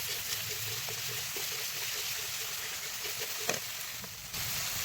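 Ground spices hit a hot pan for a sour-spicy sole fish dish, producing a soft, continuous sizzle with a faint trickling quality and one small clack midway.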